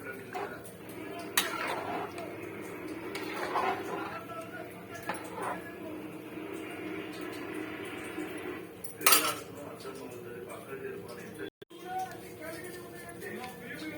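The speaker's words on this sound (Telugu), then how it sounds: "ఈ మొత్తం బాగా కలుపుకోవాలండి" Spices and ground masala being mixed into mutton pulao in a metal pot, with scattered clinks and scrapes of a spoon against the pot over a quiet background, while a person talks.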